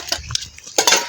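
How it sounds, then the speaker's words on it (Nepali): Dishes, pots and cutlery being washed, with a few brief clinks and clatters close by in short bursts. "बुढाबुढीहरू राम्रोसँग भाँडा मोल है"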